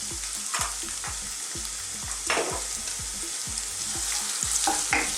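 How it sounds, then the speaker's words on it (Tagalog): Garlic followed by ginger sautéing in hot cooking oil in a wok, a steady loud sizzle broken by repeated scraping stirs and spatula knocks against the pan, with no talking. "So magigisa lang po tayo."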